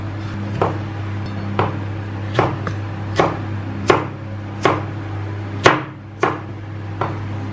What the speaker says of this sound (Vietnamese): Tắc thì các bạn sẽ cắt đôi ra.